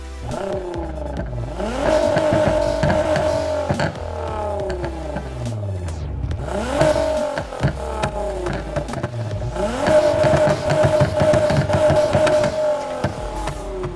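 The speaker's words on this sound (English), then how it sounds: "you can even customize the exhaust of your car" Loud car engine revving repeatedly in the video game Need for Speed: Heat, with customized exhaust, rising and falling in pitch with throaty exhaust, each rev climbing then dropping back, no talking.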